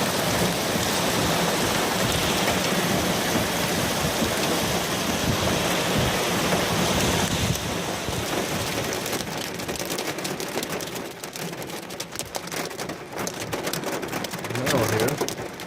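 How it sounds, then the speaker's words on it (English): Hail and rain pound a car during a severe storm in Sycamore, Illinois, a dense, loud, steady drumming that fills the whole stretch and softens slightly midway, with voices faintly underneath. "Oh, we got hail bouncing in the car now."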